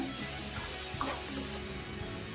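Chopped onions fry in a little oil, producing a steady, moderate sizzle with faint stirring scrapes and no voices.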